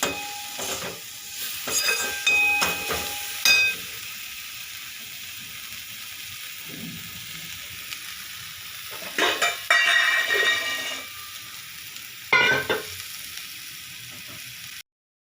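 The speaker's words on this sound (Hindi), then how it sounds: "अब इसको मिक्स करके थोड़ा पकाएंगे 10-15 मिनट" Pointed gourd (parwal) frying in a pan with turmeric, red chilli powder and garam masala, stirred in several short bursts of scraping and sizzling over a steady low frying hiss, close by with no talk.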